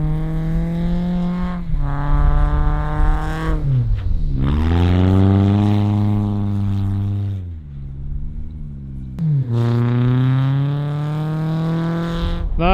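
A BMW Z3 engine revs hard while drifting in snow, rising and falling in pitch through repeated throttle bursts, loud and close, with brief drops between pulls.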